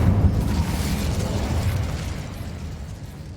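Casting the Incendio fire spell in Hogwarts Legacy unleashes a loud, deep whooshing burst of flame that rumbles heavily at first, then gradually fades.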